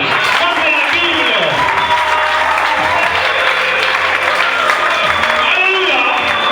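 A church congregation applauds and acclaims the Lord, steady dense clapping and crowd voices filling the space throughout, loud and continuous.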